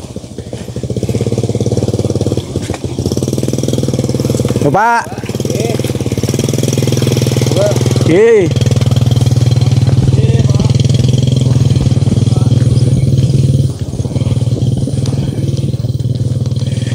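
A steady, loud small-engine drone like a running motorcycle hums close by in a rural village durian field for the whole stretch, with a few brief spoken words over it.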